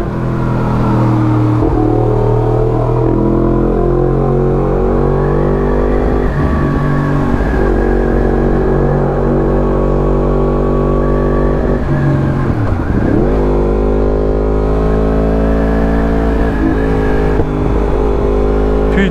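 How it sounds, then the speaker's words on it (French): A Yamaha MT-10 motorcycle engine runs loud and close, revving and droning steadily before dropping off abruptly several times as it cuts out, then picking back up. "la moto elle commence à couper"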